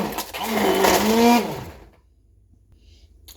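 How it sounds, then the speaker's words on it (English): An electric whisk or blender briefly whirs through fresh strawberries and blueberries for a smoothie. A loud, close burst of about a second and a half cuts off into near silence. "I've got some fresh blueberries that I'm going to add, and I'm going to whisk this up."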